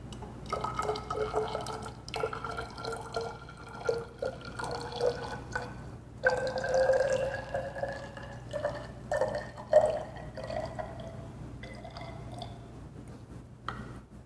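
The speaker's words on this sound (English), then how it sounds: "I will then add the water to the soil" Water trickles and drips steadily into a soil sample in a container, with wet gurgling and faint sloshing, close by and moderately quiet.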